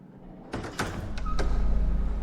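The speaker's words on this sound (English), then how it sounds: "let's go through the fog door" A fog door opening in the video game Paradise Lost: a few sharp sliding, rattling hits give way to a swelling low rumbling whoosh that builds and holds to the end, loud and close, with no voices.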